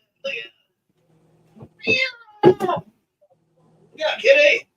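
A cat gives several close, loud meows and drawn-out wails in short bursts separated by silence.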